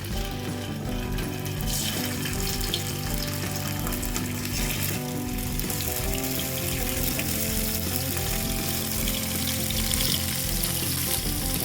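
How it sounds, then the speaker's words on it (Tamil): Matthi (sardine) fish frying in a little oil on a dosa tawa, a steady close, loud sizzle and crackle throughout with no talking. "இப்போ மீன் எல்லாத்தையும் ஒன்று ஒன்றா போட்டுக்கிறேன்"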